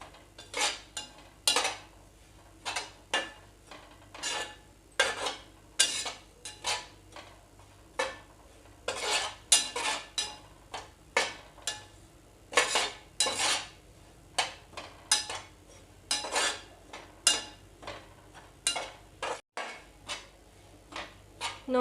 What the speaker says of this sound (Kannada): ಇದು ಬ್ರೌನ್ ಕಲರ್ ಬರೋವರೆಗೂ ಫ್ರೈ ಮಾಡ್ಕೋಬೇಕು.